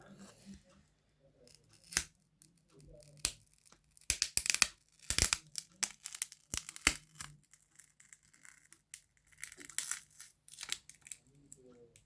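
A stuck layer is peeled off a surface in a series of sharp crackling, tearing bursts, loud and close, with brief pauses between pulls and a faint low hum underneath.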